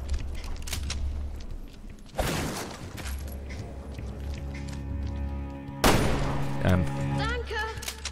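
Bursts of rapid gunfire and heavy impacts from Resident Evil Revelations 2 crackle over a steady droning background, with a couple of loud blasts partway through.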